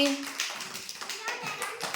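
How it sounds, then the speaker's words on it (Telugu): Young children in an anganwadi classroom clap for two classmates, giving quick, uneven bursts of small hands mixed with children's voices chattering close by. "క్లాప్స్ కొట్టండి వాళ్ళిద్దరికీ."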